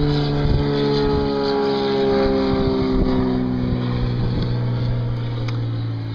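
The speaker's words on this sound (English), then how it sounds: "that was an airplane flying above me" Propeller airplane passing overhead outdoors: a loud, steady droning engine with sliding tones that shift pitch as it moves across, continuous throughout with no talking.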